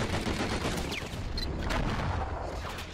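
Gunfire in the Enter the Matrix PC video game: a dense, loud stretch of rapid overlapping shots and bangs with no pause.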